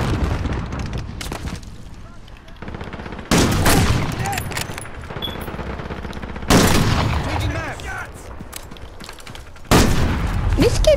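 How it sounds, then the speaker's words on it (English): Gunfire bursts in a video game, several loud sharp volleys cutting in abruptly at intervals, with dense rumbling blasts and other game noise filling the gaps between them. "This kid just walked up to me and sniped me."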